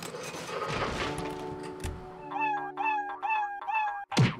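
A cat meows in the video game Road Not Taken, giving a quick series of about four short, repeated cries after a stretch of sustained game tones.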